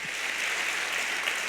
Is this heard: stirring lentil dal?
no